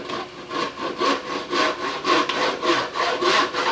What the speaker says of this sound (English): I'm going to take a fine-tooth handsaw and cut through just under that line all the way back to the bit.